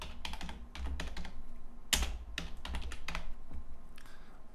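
Typing on a computer keyboard while building a website in Dreamweaver: bursts of quick clicking keystrokes, close and fairly quiet, with brief pauses between runs and one sharper key strike.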